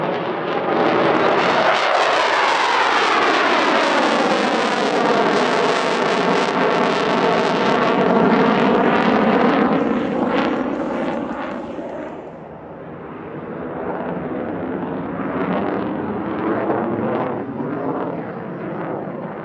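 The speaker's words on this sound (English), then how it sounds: "Rather, a standard grey Raphael B two-seater." A standard grey Dassault Rafale B two-seater jet flies at the Air Legend 2023 airshow. Its loud, close roar sweeps past with a shifting whine, then fades into a softer, steady rumble.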